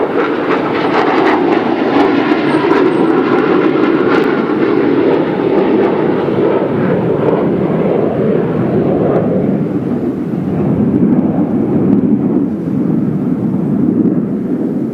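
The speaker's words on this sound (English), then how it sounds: "That was the B-1 bomber flying from Dyess Air Force Base, coming around from the south by flying over Medical Center Hospital" B-1 bomber jet from Dyess Air Force Base passing over a hospital, a loud, sustained roaring rumble that fills the whole stretch and gradually shifts lower in tone as it moves away.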